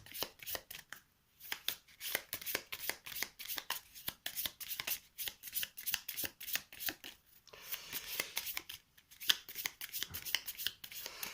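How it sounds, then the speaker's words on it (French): Playing cards from The 7th Continent board game being shuffled by hand, a run of quick riffling and sliding bursts with brief pauses between, close and fairly quiet, with no talking. "Je prends 6 cartes au hasard. 1, 2, 3, 4, 5, 6. Allez, on les regarde même pas. On va les mélanger là."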